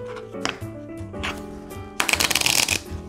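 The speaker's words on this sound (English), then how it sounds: "Time for the shuffle test." Linen-finish half-size cards from the Mariposas board game are riffle-shuffled up close, a brief rising flutter followed by a dense burst of fast card slaps, with no talk.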